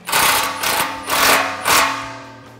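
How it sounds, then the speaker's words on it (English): A 15mm socket on a ratchet snugs down exhaust clamps on a 2014-2018 Silverado 1500 with a Borla ATAK exhaust, making four quick, loud bursts of ratcheting clicks close by that fade at the end. "So grab your 15mm socket and just get it snug."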